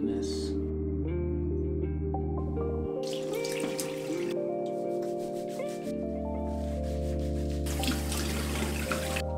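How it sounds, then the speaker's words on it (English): Water runs steadily from a bathroom sink tap during face washing, with splashing and rubbing over a constant flow and brief interruptions. "I'm going to go ahead and wash my face."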